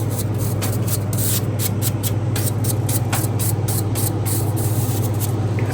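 WD-40 lubricant sprayed into a compacted, unmaintained walk-in cooler part, a loud steady hiss running without pause over a constant low machine hum, with no talking.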